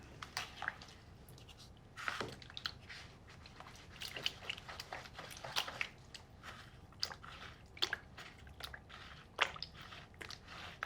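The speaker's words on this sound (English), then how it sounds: "We just mix it a little bit so we make it easier to mix the flour in" Wet, sticky squelching and soft clicks as sourdough starter is stirred into water, irregular and close, with quiet pauses between movements.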